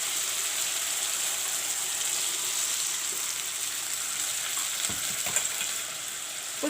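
Masalas with dry chilies and turmeric fry in a pan, a steady close hiss and sizzle running throughout, with a few faint spoon clinks near the end.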